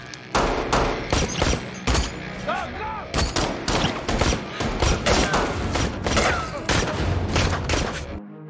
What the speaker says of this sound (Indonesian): Mereka lantas berusaha melindungi diri dari tembakan serta kejaran para anak buah Sheikh